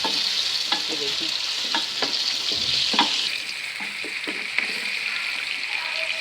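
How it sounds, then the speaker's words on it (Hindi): Mutton pieces fry lightly in a pan, giving a steady close sizzle. Intermittent scrapes and taps from stirring sound over the hiss, with no talking. "इसको हल्का सा भूनेंगे ताकि ये पीसीस जो हैं मटन के, ये इनका कलर चेंज हो जाए थोड़ा सा।"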